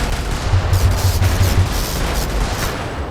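Cannon shots fired by a mech in the video game Brigador, heavy low booming bursts rumbling continuously under steady game noise, with no clear separate impacts standing out.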